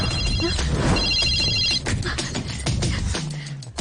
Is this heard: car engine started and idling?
no